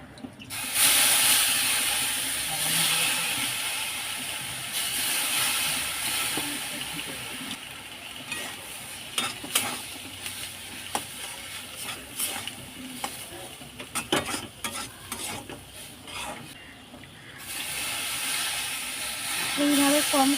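Semolina upma frying in a pan, with small splashes of water added while it is stirred, giving a steady hiss and sizzle with scraping spoon strokes throughout.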